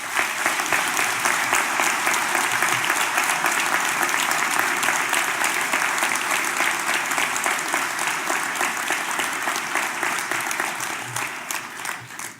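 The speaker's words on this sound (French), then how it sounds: "je vous demande même de les applaudir s'il vous plaît" An audience at a mayor's New Year address in Cusset applauds the staff with sustained, dense, loud clapping that holds steady for over ten seconds and then tapers off.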